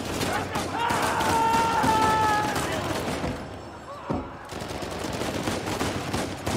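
Bursts of gunfire from the video game Uncharted 4 crackle in a prison escape level, with rapid shots and a tonal in-game hum, fairly close and loud throughout.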